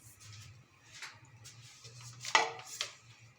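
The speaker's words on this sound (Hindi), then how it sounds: "इस पॉइंट पे हमें स्पून को मुसलसल चलाते रहना है" A spoon moves steadily through besan curry in a pan, making soft, faint scraping and light metallic clinks, with one sharper clink near the end and a low hum beneath.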